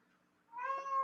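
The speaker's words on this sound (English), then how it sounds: "My cat is going nuts." A house cat meows outside a closed door, wanting into the room: a single drawn-out, fairly loud meow that rises and holds, close by, with no talking.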